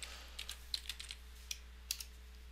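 Quiet typing on a computer keyboard, a scattered run of soft key taps at a modest distance over a low steady electrical hum, with no talking.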